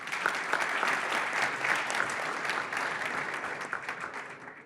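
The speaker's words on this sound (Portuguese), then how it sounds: "Isso merece palmas, por favor." Full crowd applause at a finance conference: a thick, continuous patter of many hands clapping, even and moderately distant, fading slightly near the end.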